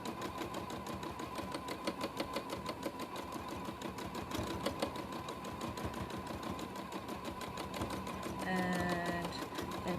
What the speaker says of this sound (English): this is free motion quilting